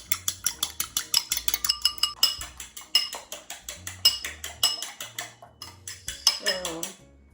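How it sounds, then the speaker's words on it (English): A fork whisks an egg in a bowl in fast, regular clinking strokes, close and crisp, pausing briefly midway before resuming and then trailing off. "Now we're gonna break an egg and mix it with a fork."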